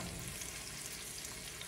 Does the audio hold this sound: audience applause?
no